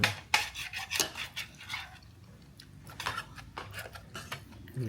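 A small child plays with a metal spoon during a vegetable mealtime, producing a string of close, irregular clinks and scrapes against dishes, loud bursts separated by brief quieter rubbing.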